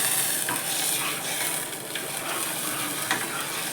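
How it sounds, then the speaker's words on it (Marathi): Hot oil tempering sizzles steadily in a pan for a fasting-day snack, a dense continuous hiss with faint stirring scrapes, close and fairly loud, with no voices. "तुम्ही जर जिरं वापरत नसाल तर नुसती तेलाची फोडणी घालायची"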